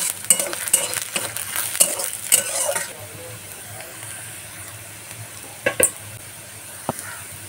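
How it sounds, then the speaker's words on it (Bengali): Chopped onion, chili and garlic fry in hot oil while being stirred, with scraping clatters over the first few seconds, a softer continuous sizzle, then a couple more sharp utensil knocks. "পেঁয়াজ কুচি, লঙ্কা কুচি, রসুন কুচি এইসব তেলের উপরে দিয়ে এটাকে দিয়ে একটু আর কি নাড়াচাড়া করবো"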